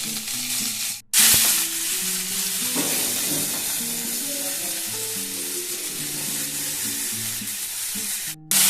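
Onion, panch phoron spices and salt frying in a pan as the base for a bitter gourd chorchori, giving a steady close sizzle with stirring, over a melodic background of music.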